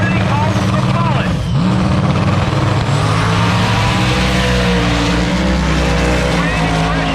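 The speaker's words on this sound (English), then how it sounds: "the twin turbocharged X-Big Block Camaro" A twin-turbocharged big-block Camaro drag races down the strip, its engine roaring loud and steady with a deep rumble and rising whine, while an announcer talks over it.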